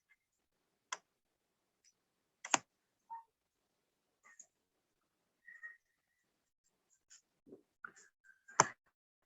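Sparse computer mouse clicks while signing in to a library app, a handful of sharp isolated taps spread over several quiet seconds with small faint ticks between them.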